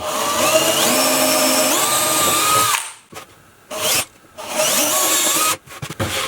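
A power drill bores two 5 mm holes in wood near the edge in two loud whining runs with rising and falling pitch, separated by short pauses with bits of handling noise.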